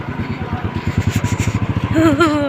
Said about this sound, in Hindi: हम जा रहे हैं बाइक से।